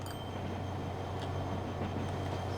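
A train running in the Transport Fever 2 video game: a steady low rumble and rolling rail noise that holds at an even level throughout, without any talking.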